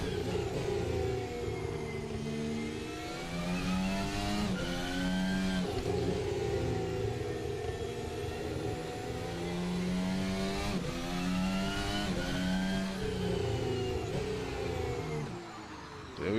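An F1 race car in a racing game downshifts into a corner, its high engine whine rising and falling through several gear changes, with a harsh, buzzing tone and no voices over it.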